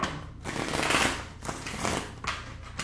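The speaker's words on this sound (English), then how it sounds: "Last shuffle." Tarot cards being shuffled by hand, a few rustling riffle bursts with short pauses between them, close and alone without speech.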